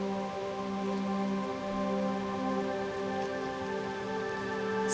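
Raindrops falling in the video game Reverse: 1999, a soft steady patter under a sustained tonal hum, even and continuous throughout, with no voices.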